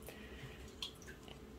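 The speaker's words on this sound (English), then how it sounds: "dump out her old water" Old water dumped from a plastic orchid container holding a rootless Phalaenopsis in water culture: a brief soft splash and a few drips, fairly close and quiet, with no voices.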